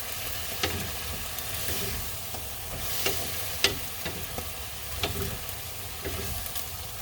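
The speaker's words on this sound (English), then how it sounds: "This is Ginisang Ampalaya with pipon, so basically bitter melon stir fry with shrimp, Filipino style." Filipino bitter melon and shrimp stir-frying in a hot pan, a continuous loud sizzle broken by scattered clicks and scrapes of stirring.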